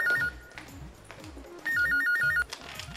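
A mobile phone ringtone rings in two loud electronic bursts, separated by a quieter gap filled with background studio sounds, in a comedy TV drama scene.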